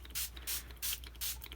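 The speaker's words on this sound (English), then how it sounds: "I'm going to spray my entirety of my pages." Quick, soft spritzes of ink spray onto art journal paper pages, four short hissing puffs in a steady rhythm, close by and quiet.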